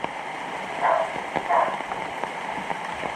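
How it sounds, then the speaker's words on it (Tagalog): Steady rain falls outdoors in a rural area near goats, a constant patter filling the background with a couple of louder splashy bursts and no speech. "bagay umuulan nandun na sila"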